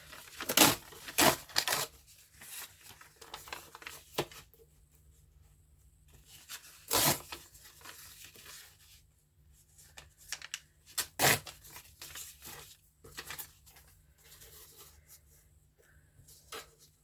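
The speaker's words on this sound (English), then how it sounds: "We've got to get part of this list in, so we're going to rip this down." Paper being ripped down by hand at a collage desk: a run of rough tearing and rubbing rasps in irregular bursts over about seventeen seconds, close and fairly quiet, with pauses between strokes and no talk.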